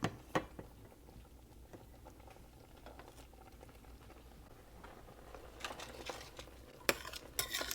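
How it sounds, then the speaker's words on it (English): Basil cream sauce for beef ravioli simmering and reducing in a pan, a faint, steady bubbling patter with occasional light clinks of a utensil, close by and without talk. "I'll say this is simmering well, and it's reduced just a bit."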